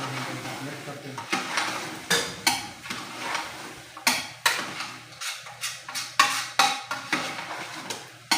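Tomatoes being stirred in a karahi pot for mutton karahi, with repeated sharp metallic scrapes and clanks of a utensil against the pot in an irregular rhythm over a low background hum, with a voice talking at times.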